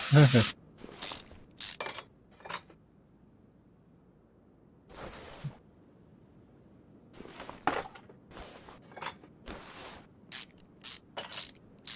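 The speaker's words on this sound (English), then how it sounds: "And this is with the highest speed ratcheting, too." A maxed-out high-speed ratchet spins bolts in Car Mechanic Simulator 2021 while working on a Jaguar XJS and a Mercedes-Benz 190 Evo2, in quick separate bursts of rapid clicking with quiet gaps between them.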